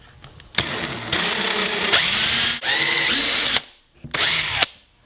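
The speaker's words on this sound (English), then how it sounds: "I'm using a special drill bit to make my holes" A power drill with a countersink bit whirs loudly up close in several long runs, the motor pitch shifting as the bit bites into wood, with short pauses between bursts.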